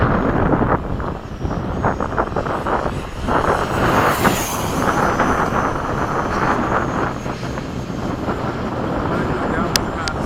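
An F/A-18 jet flying a downwind pass in formation makes a constant loud engine roar with a rough rumbling texture, steady and close for the whole stretch.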